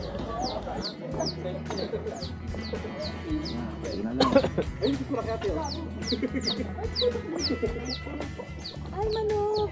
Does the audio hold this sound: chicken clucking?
yes